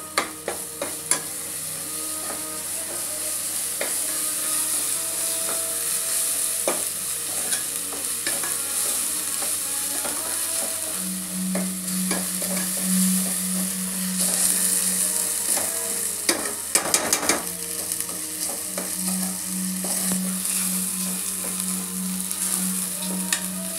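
Ginger garlic paste frying in a pan for a Warangal-style chicken curry, with continuous close sizzling and frequent scraping of a spoon stirring through it, no talking.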